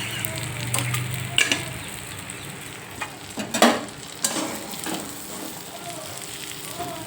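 Bitter gourd pieces frying in oil in a pan, a soft continuous sizzle with scattered louder crackles and stirring scrapes, faint and close.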